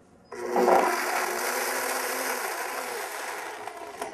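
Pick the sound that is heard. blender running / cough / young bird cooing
blender running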